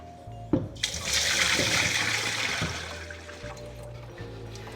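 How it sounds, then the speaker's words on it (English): Curds and whey pour through a fine strainer into a sink, a steady loud rush of liquid splashing and draining for several seconds after a knocking start, close and with no talk. "We're going to pour all of our curds through it and separate the curds from the whey."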